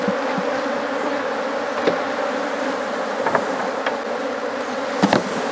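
Honey bees hum steadily around populous hives at an apiary, a dense continuous buzz with a few individual insects passing close.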